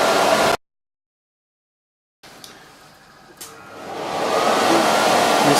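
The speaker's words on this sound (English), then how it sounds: "This time the blower is 5 foot away." Air blower running steadily for a wind speed Venturi test, the unit set five feet away; broadband rushing noise that cuts out briefly, returns quieter with a couple of clicks, then swells louder and steady.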